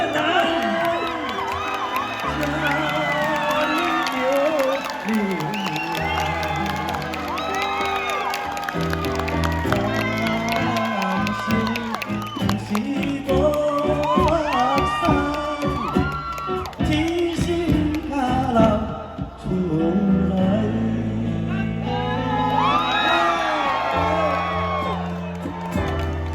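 An audience at a small fishing-village rock concert in Kouliao cheers, whoops and applauds to welcome a singer onto the stage, with crowd shouting and music-like tones mixed in and voices over the noise.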